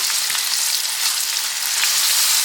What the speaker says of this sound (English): And I'm just going to fry it up.